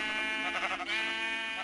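A single drawn-out sheep bleat in a video game, close and clear with a wavering, nasal tone lasting over a second.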